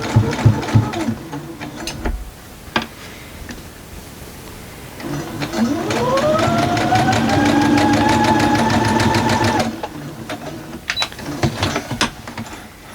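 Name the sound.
sewing machine sewing a quilt seam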